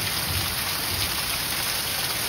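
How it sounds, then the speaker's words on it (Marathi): Heavy monsoon downpour in the Konkan countryside, a dense, steady roar of rain drumming down continuously and loudly with no voices. "म्हणजे कोकणात मुसळधार पावसाची सुरुवात झालेली आहे अक्षरशः"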